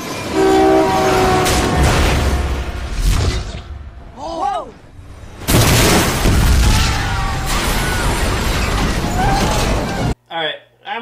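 A train horn blares over a heavy rumble as a train strikes a car in a movie scene from G.I. Joe: The Rise of Cobra; the noise is loud and continuous, with voices and a brief pause near the end.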